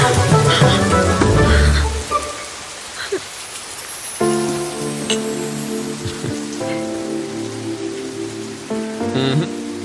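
Steady rain patters throughout, with bursts of louder tonal noise and a shifting hum layered on top; no voices.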